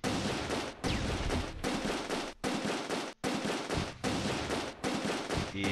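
Bursts of machine gun fire in the World War II strategy game Close Combat II, loud dense rattling volleys of about a second each, broken by short gaps, with no talk.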